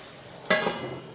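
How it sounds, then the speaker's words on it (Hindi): Ingredients roasting in a pan for a traditional Rajasthani Sheetalashtami meal give a brief sizzling burst with a second stir-like crackle, alone and fairly close. "तो इसे बढ़िया से भून लेना है ताकि इसका भी मॉइस्चर सारा ख़त्म हो जाए"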